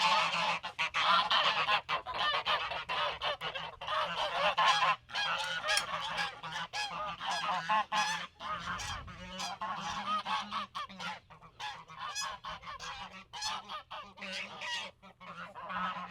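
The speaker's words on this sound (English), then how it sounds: "So good morning, geese" A flock of geese leaving their coop in the morning honks continuously, many loud overlapping calls packed close together from nearby birds, with no pause in the clamor.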